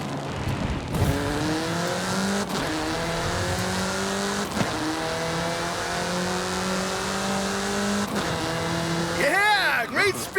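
A car in the racing game Forza Horizon 5 drives at speed, its engine climbing through gear after gear in rising revving sweeps, loud and continuous, with tire noise near the end.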